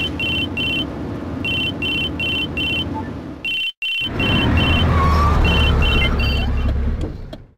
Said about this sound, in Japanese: おう、そうそう、今車の中。